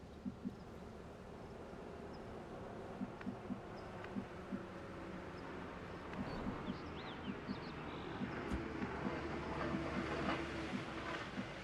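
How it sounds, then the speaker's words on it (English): An approaching train in the video game XCOM 2 gives a low, rumbling rail noise with rhythmic clickety-clack beats that grows gradually louder, heard faintly at a distance and with no voices. "Why is there a noise of a train coming?"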